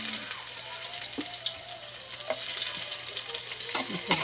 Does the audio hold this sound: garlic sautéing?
yes